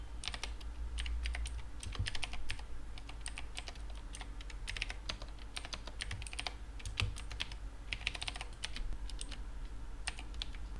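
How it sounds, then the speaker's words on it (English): Steady typing on a computer keyboard while setting up code editor extensions, a dense run of close, crisp key clicks with brief pauses and occasional heavier keystrokes, no talking. "so I'm gonna type"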